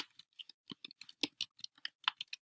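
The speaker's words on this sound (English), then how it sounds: "I'm going to actually type some real words here again" Real words are typed on a computer keyboard: close, crisp keystroke clicks tap out in quick, uneven bursts with short pauses, alone in a quiet room.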